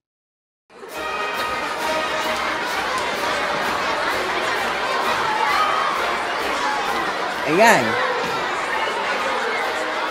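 Carnival soundscape of a dense crowd chattering with children shouting, a steady loud wash of voices and a brief rising squeal near the end.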